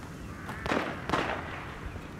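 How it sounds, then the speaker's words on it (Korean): Two sharp bursts of gunfire from the video game The Evil Within, each with a short echoing tail, sound from a moderate distance over a steady background hum. "총소리가 들리죠"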